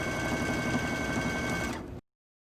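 Sewing machine running fast during free motion quilting, a loud steady high-speed needle chatter with a whining tone that stops abruptly just before the end.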